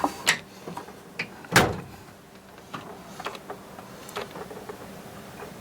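A tool chest drawer in a mechanic's toolbox sliding open, a few sharp metallic clacks and rattles of hand tools such as channel-lock pliers shifting inside, close and fairly quiet, followed by smaller ticking clicks.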